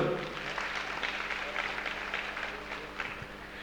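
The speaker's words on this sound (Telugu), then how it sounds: "మన విజయభాస్కర్ రెడ్డి గారు ఒకసారి గట్టి క్లాప్స్ కొడదాం." An audience at a Tirupati Sakahara rally claps in steady, dense applause, moderately loud and sustained throughout, with some speech mixed in.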